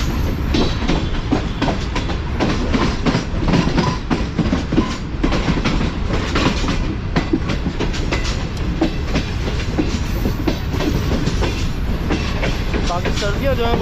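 The Shalimar Express runs on the rails after leaving a junction station, giving a loud continuous rumble with rhythmic clickety-clack from the wheels, heard close and steady throughout.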